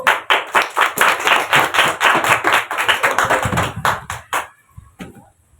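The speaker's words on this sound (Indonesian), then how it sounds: "tepuk tangan untuk kelompok 1" A classroom of students claps for a presenting group, a near, loud burst of quick, fairly rhythmic hand claps that stops abruptly, leaving a couple of isolated claps and quiet.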